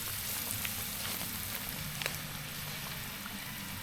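Fish fillets and fries fry in grease in two pans, giving a steady, even sizzle with small crackling pops, heard close up and without talk.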